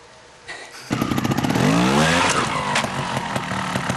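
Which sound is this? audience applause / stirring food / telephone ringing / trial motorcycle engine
trial motorcycle engine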